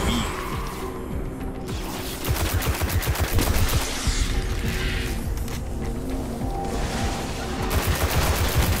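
Rapid rifle gunfire in the video game Destiny, bursts of close, loud automatic shots rattling almost continuously with brief pauses between volleys.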